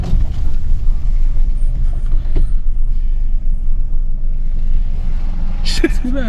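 Vehicles climbing a high-altitude mountain road at Umling La pass, a steady low engine rumble close by with a sharp hiss near the end, and people talking over it.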